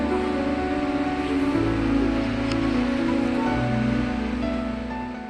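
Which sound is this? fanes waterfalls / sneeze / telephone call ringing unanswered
fanes waterfalls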